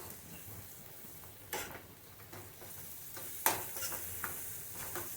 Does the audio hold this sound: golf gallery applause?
no